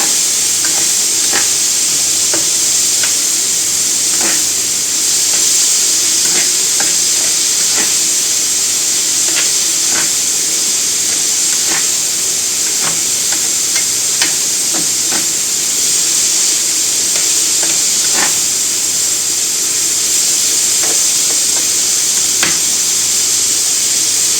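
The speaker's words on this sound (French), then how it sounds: "on remue pour pas que ça brûle" Potatoes, pumpkin and lardons fry in a pan under a steady, loud hiss and sizzle, with occasional clicks and scrapes as the mixture is stirred throughout.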